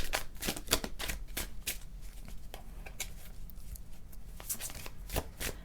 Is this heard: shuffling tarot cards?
yes